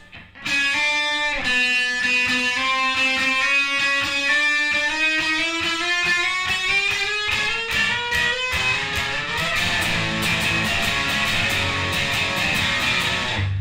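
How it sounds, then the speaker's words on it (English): A guitar slides steadily upward along the neck, pitch climbing continuously over several seconds before settling into strummed chords from a song, loud and close with no talking. "it's like that same pace slide, but just all the way up"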